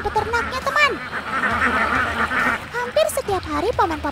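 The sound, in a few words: Alabio ducks quacking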